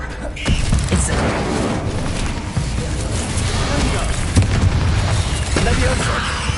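A fire spell in the Hogwarts Legacy video game bursts with a dense roaring whoosh that holds for several seconds amid rumbling combat effects, with a voice over it.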